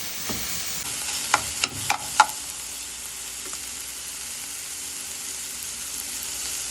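Lamb liver and tail fat frying in a pan with no added oil, a steady soft sizzle running throughout, broken early by a few sharp clinks and stirring scrapes before settling into an even hiss.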